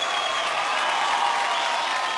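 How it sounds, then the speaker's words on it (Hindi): Loud, steady applause from the crowd at a Bollywood music awards night, dense clapping holding an even level throughout with no pauses. "जोरदार तालियां हो जाए एक बार"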